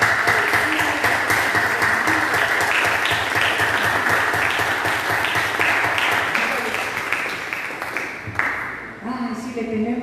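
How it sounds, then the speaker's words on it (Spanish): Loud, dense applause from a church congregation, with a few voices calling out over it, dropping away near the end. "¿Podemos darle un aplauso al Señor?"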